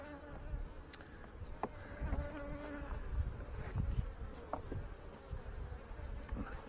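Honey bees at an open hive after an artificial swarm, a steady dense buzzing drone of many bees with individual bees whirring close past now and then, continuous and fairly quiet, with no talking.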